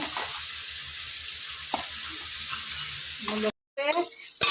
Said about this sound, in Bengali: এখন শাক ভাজবো।